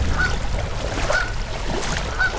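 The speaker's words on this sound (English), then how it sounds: "I did not realize there's a Canadian goose nest right there." Canada goose honking near its nest by a creek, three short, evenly spaced honks about a second apart, fairly faint over steady rushing water and outdoor background noise.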